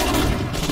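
Dense, continuous burst of rifle and machine-gun gunfire from the WWII strategy game Sudden Strike 4, a brief unbroken clatter with no pauses.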